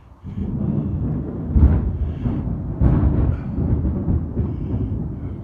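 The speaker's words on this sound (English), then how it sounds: "good thunderstorm" Thunder from a thunderstorm rolls as a deep, steady rumble throughout, swelling into two louder peaks partway through before settling back to a low, continuous roar.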